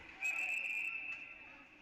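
At an ice hockey playoff game, a referee's whistle gives a sharp, sustained shrill blast over the arena's crowd murmur and ambient rink noise.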